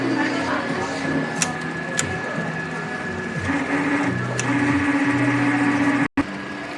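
A sublimation printer runs its print head cleaning cycle with a steady mechanical hum. Intermittent droning pump tones rise and fall, with a few sharp clicks and a brief dropout near the end.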